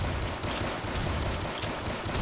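Gunfire in a Roblox zombie game comes as a dense, continuous wash of loud shots with no clear gaps between them and no talking.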